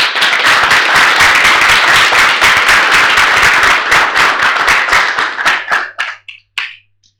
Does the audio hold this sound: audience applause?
yes